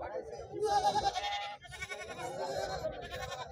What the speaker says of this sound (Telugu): నల్ల మేకపోతులు మంచి పోతులు మాత్రం మంచిగా ఉన్నాయి